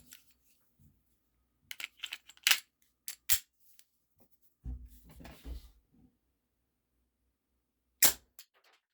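A WE Tech Bulldog airsoft gas blowback pistol fires 0.20 gram BBs on black gas, giving several sharp, close snapping shots spaced irregularly amid near silence, with some clattering handling noise in between.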